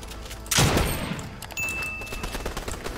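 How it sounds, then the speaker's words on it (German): Gunfire in the video game Fortnite, a loud burst of several shots near the start followed by scattered rapid shots and impacts over continuous game noise. "Und jetzt schießen mich alle an."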